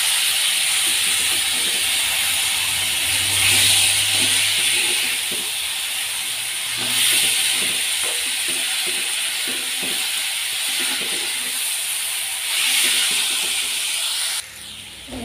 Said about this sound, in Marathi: जो बटाट्याचा किस आहे आपण धुतलेला, तो त्यात टाकूया। व्यवस्थित मिक्स करूया।